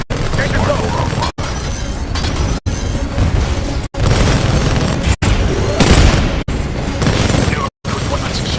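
A Titan's Smart Core weapon in Titanfall 2 fires a steady, rapid stream of loud heavy shots over dense combat noise, broken by a few brief cut-outs.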